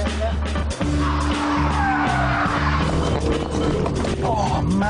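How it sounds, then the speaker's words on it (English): A MINI Cooper spins its wheels on a test track, engine revving hard with a rising tire squeal and skid sweeps over about five seconds, loud and close, with faint talk. "He's got a bit of wheel spin on there."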